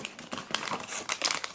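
A plastic bag holding a GateKeeper GK chain is torn open and handled, giving dense, irregular crinkling and crackling close by for about a second and a half, with no talking.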